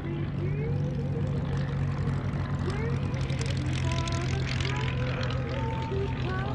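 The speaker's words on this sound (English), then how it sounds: "Rolling out in the P-40 Warhawk. Right behind, the Supermarine Spitfire." The propeller engines of a taxiing P-40 Warhawk and a Merlin-engined Supermarine Spitfire drone steadily at a distance while someone talks over them, with a continuous low hum throughout.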